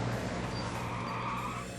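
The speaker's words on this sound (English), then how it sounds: "Random limousine." A limousine engine in the video game Trails of Cold Steel II rumbles steadily at close range, a low continuous drone with faint tire noise, like a vehicle rolling up and idling.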